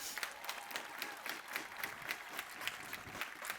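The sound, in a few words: applause at commencement ceremony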